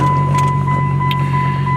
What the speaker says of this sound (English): put our key in the ignition and crank her up